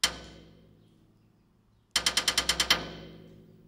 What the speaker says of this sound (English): So basically I just have a rim shot here, which is feeding into the delay